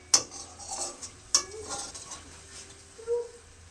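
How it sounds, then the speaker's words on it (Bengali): A spoon scrapes and clinks in a pan as spice masala is stirred and sautéed for a fish-head and cauliflower ghonto, with two sharp metallic knocks and soft stirring between them, close and moderately quiet. "মশলাটা প্রায় কষানো হয়ে গেছে,"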